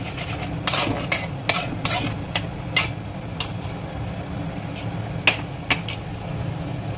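Schezwan chicken is stirred in a pan, a spoon knocking and scraping against the metal in irregular sharp clacks over a low sizzle, close and clear with no talk.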